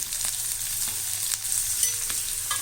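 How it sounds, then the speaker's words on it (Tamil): Dry red chilies, green chilies and chopped ginger fry in oil in a pan for lemon rice, a constant crackling sizzle with occasional light spatula taps and scrapes, close, no talk. "போட்டு இதையும் நல்லா வறுத்துடணும்"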